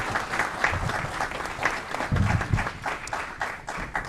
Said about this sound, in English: Another round of applause for Julian Spencer Jr.